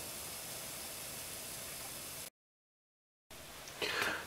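A 0.15 mm misting nozzle running at 75 psi gives a steady faint hiss, broken by a second of dead silence, then resumes with a brief brighter burst of spray at the end.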